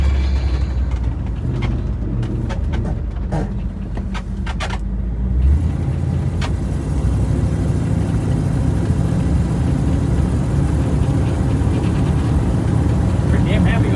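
A 1962 Ford Thunderbird engine runs just after a cold start with a steady, close mechanical rumble and hum. Faint voices are audible in the background.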